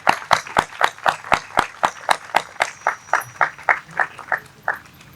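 A crowd at a church women's conference in Pakistan claps in unison, sharp, loud, evenly timed beats about three per second that continue steadily and ease slightly toward the end.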